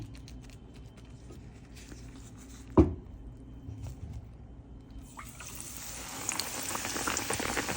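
Potato-stuffed bread slices coated in gram flour batter bubble and fry in hot oil, a soft steady boiling crackle that swells louder and brighter after a sharp knock partway through, with no talking.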